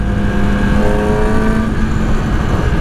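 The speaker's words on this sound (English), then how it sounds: "that exhaust sounds really nice. It's loud, but it sounds good" A 2009 Yamaha R6 with 34,000 miles revs through a loud aftermarket exhaust, a steady, close engine drone that holds its pitch and then shifts slightly, with no talking.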